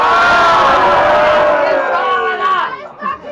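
A wrestling crowd at a live event cheers and shouts in a loud, sustained roar that fades toward the end, leaving scattered voices.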